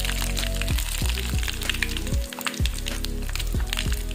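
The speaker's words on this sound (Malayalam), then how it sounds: "ചൂടായ വെളിച്ചെണ്ണയിലേക്ക് കുറച്ച് കടുക്, ഒരു ചെറിയ സ്പൂൺ കടുക് ചേർത്ത് കൊടുത്തിട്ടുണ്ട്." Mustard seeds sizzle and pop in hot coconut oil in a kadai, a close, dense frying crackle with sharp sputters and a repeating low thumping underneath throughout.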